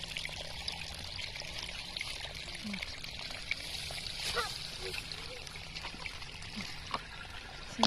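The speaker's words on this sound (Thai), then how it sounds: "เบิ่งในสายน้ำไหลเนาะพี่น้อง" Steady broadband wash of flowing stream water runs throughout, with occasional small splashes and trickles; faint distant voices appear now and then.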